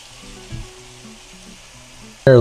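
Thinly sliced shabu-shabu beef for bulgogi sizzles steadily in a hot pan, a continuous close frying hiss with a low hum underneath, ending in a sudden loud burst.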